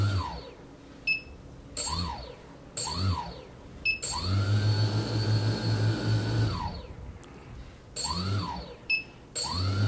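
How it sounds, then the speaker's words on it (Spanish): Motors on a homemade quadcopter drone fitted with EMAX Simon ESCs spin up together in several rising and falling whines, including one longer sustained high-pitched run, loud and close, with no voices. "Todos los motores están moviéndose a la vez"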